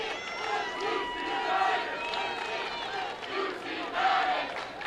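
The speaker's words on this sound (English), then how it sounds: "you can hear the fans over there cheering on number 1, Lucy Maddox." Fans cheer from the stands at a high school girls lacrosse game, a continuous crowd roar with swelling shouts around the middle and near the end, heard from a distance.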